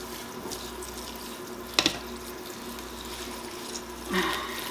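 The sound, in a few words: water poured into a pot of kale for canning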